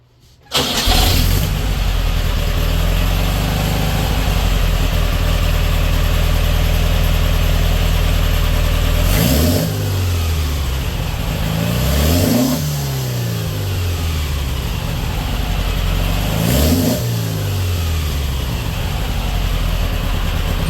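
A 2180cc carbureted engine on a dyno cranks and fires up, settles into a loud, rough idle, then revs up sharply three times, each blip rising and falling back to idle.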